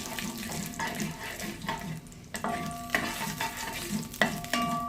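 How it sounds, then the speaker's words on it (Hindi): Mustard seeds and cumin frying in hot oil, a soft steady sizzle with light crackles and stirring scrapes, close and fairly quiet, with no talking. "मैंने सरसों के बीज जो है वो 1 टीस्पून और 1 टीस्पून ज़ीरा लिया है, वो इसमें ये चंद सेकंड के लिए फ्राई करते हैं।"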